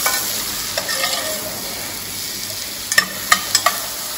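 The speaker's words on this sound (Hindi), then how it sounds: "अब इसको भी हम लोग यहाँ पे सौते कर लेंगे।" Leek sautéed in a pan for vichyssoise gives a steady fry-like hiss over a faint background hum, then a few sharp utensil knocks near the end.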